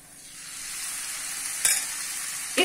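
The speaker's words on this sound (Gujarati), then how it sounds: "1 ચમચા જેટલું દહીં એડ કરું છું અને સારી રીતે હલાવી લઉં છું" Curd stirred into a hot oil tempering in a pan gives a steady broad sizzle that swells slightly, punctuated by two sharp spoon scrapes or clatters near the end, close and clear with no voices.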